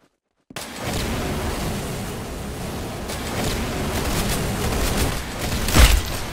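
Gunfire in the Roblox shooter Arsenal, a dense, continuous rattle of rapid shots with booming bursts, loud and close, building to a heavier blast near the end, no talking.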